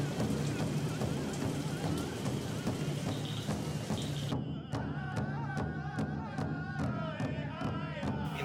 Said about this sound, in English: Beans for dinner, and then heavy rains all night.